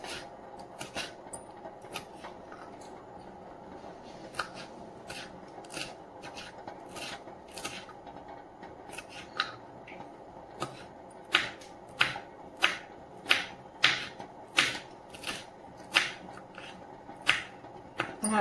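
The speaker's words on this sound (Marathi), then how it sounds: "आता हे मिरच्या पण कापून घ्यायच्या आहे आपल्याला." Green chillies being sliced with a knife on a board, a run of sharp, crisp cuts that start sparse and grow into a quick, regular rhythm, close and fairly quiet with no talk.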